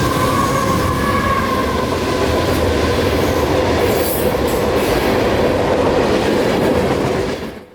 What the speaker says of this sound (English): but rather Q455, nightly mixed freight from Waycross, Georgia to Taft Yard near Orlando, Florida, was just now making his way down through this part of the state